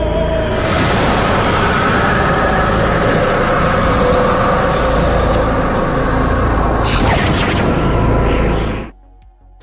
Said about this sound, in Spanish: Las sirenas comienzan a sonar de fondo y se producen grandes explosiones a su alrededor.